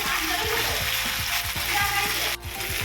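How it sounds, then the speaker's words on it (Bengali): Fish pieces frying in a mustard paste with spices, a dense crackling sizzle under regular scraping strokes of a spatula against the pan, close and fairly loud, cut briefly near the end. "এবার আমি মাছটা দিয়ে দেবো। দিয়ে আমি একটু কষতে থাকবো।"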